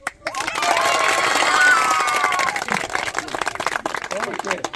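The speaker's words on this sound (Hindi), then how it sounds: "तालियां।" Teachers and students of a school on a geography trip clap together outdoors, a loud burst of mixed applause and cheering that swells, then thins into scattered claps and voices.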